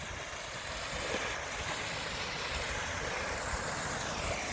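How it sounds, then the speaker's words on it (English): A small waterfall in the Cornish woods gives off a steady, broadband rush of falling water that stays even and unbroken throughout, with no voices over it. "A little waterfall there."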